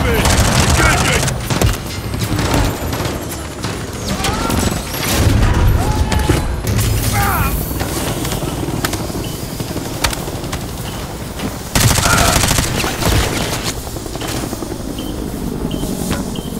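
Dense, loud gunfire and explosive booms in a Call of Duty MW3 campaign battle as troops fire on a helicopter, with bursts and blasts continuing throughout and swelling near the end.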